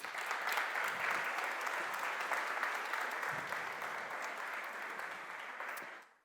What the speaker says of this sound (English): So big round of applause to them, please.